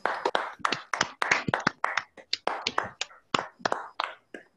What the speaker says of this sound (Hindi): चलो सब लोग अपने लिए ताली बजाओ,